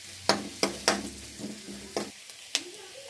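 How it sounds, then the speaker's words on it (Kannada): Onions frying with turmeric in a pan for egg bhurji masala, heard as several sharp, close scraping strokes of a spatula over a soft sizzle, then quieter stirring with no talk. "ಈಗ ಉಳ್ಳಾಗಡ್ಡೆ ಕೆಂಪಾಗೋ ರೀತಿಯಲ್ಲಿ ಫ್ರೈ ಮಾಡಿಕೊಂಡು ಆನಂತರ ಅರಿಶಿನವನ್ನು ಹಾಕಬೇಕು"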